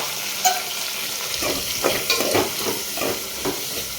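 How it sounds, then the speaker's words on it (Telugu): Dried prawns frying with chopped onion and green chilli in a pan, a steady close sizzle broken by repeated scraping stirs, with no talking. "ఎండు రొయ్యలు కొంచెం ఫ్రై అయిన తర్వాత కట్ చేసి పెట్టుకున్న ఆనియన్ పచ్చిమిర్చి అయితే వేసుకోవాలి."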